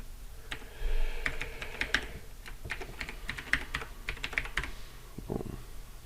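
Rapid keystrokes on a computer keyboard as an email address is entered, a steady run of close, crisp clicks with brief pauses, plus a low thud near the end.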